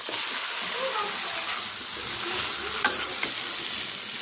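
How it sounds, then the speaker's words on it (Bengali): Bottle gourd tipped into a pan with turmeric, coriander powder, cumin and ginger paste for a fish-head curry: loud continuous frying sizzle with stirring and a couple of sharp utensil clinks, close-up and steady. "বন্ধুরা আমি এখন লাউটা ঢেলে দেবো"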